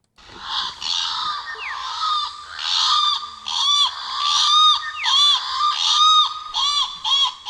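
Loud, repeated rising whooping calls of a channel-billed cuckoo, harsh and insistent, overlapping in a rapid series with faint background noise.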